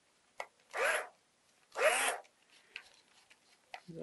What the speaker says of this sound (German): Dann spanne ich jetzt mal eben den Bit ein.